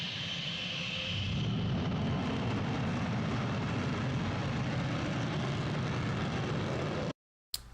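Overheating PS4 console fan after more than an hour of play, a loud, steady whooshing roar like a jet engine that holds for about seven seconds, then cuts out abruptly.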